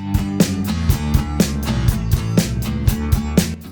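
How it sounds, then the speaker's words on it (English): A steady drum groove with crisp hi-hat hits and kick drum thumps falling between the main beats, lined up with the hi-hat, looping evenly at a brisk tempo. "Kicks in between the pulse, but still lined up with the hi-hat."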